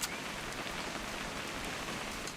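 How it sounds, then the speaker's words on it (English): Steady rain in the video game What Remains of Edith Finch, a dense, even hiss of falling drops with no talk. "It's gonna rain the whole weekend, isn't it?"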